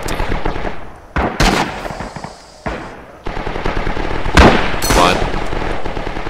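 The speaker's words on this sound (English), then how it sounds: "That machine gun just raging back there." Machine gun fire rattles in Rising Storm/Red Orchestra 2 during a jungle fight, loud rapid bursts and scattered gunshots, close, with brief pauses between volleys.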